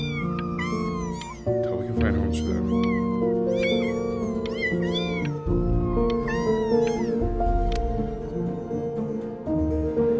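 Several cats meowing repeatedly in the video game Before Your Eyes, overlapping high calls over a backdrop of background music.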